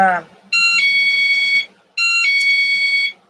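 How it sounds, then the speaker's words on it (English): A home alarm chime that signals someone approaching sounds twice, each a loud, steady electronic tone of about a second, separated by a short pause, with a brief voice fragment at the start. "that's my alarm. Lets me know someone's walking up or an animal."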